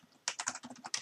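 Quick keystrokes rattle across a computer keyboard as router configuration commands for a DMVPN tunnel interface are entered, a steady burst of close, crisp clicks after a brief quiet start.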